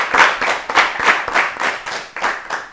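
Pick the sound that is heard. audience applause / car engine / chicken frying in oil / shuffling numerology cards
audience applause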